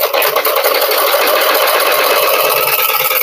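A sewing machine stitches a blouse in a steady, continuous whir with fast, even needle rhythm, close and loud throughout without pause.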